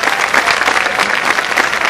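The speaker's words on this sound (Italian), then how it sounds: "facciamo un grande applauso, effettivamente" A concert crowd outdoors at the Giardino dei Semplici applauds steadily, a dense wash of many hands clapping at once, loud and sustained throughout.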